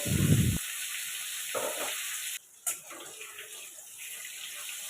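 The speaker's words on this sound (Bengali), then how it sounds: "হালকা করে ভেজে তুলে নেব" Cauliflower pieces seasoned with salt and turmeric fry in hot oil, giving a steady close hiss that starts with a brief low thump as they go in and continues alone at an even level.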